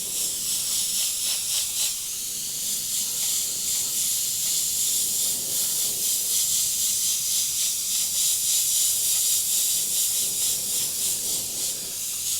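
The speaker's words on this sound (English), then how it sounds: "I'm just sketching with my airbrush." An airbrush sprays Payne's Grey paint while sketching stormy clouds, giving a steady, continuous airy hiss that holds evenly from start to finish with no talking.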